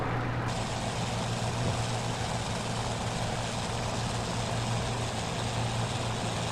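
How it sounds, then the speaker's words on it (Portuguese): Curtiss P-40F Warhawk piston engine in Microsoft Flight Simulator, a loud, steady low drone with a constant throbbing hum and broad roar, droning on without pause. "E depois este som do motor está excelente mesmo."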